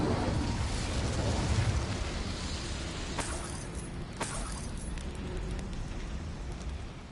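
An Incendio fire spell in Hogwarts Legacy, a steady roaring, crackling rush of flame that holds at a moderate level, with a couple of sharp snaps breaking through partway along.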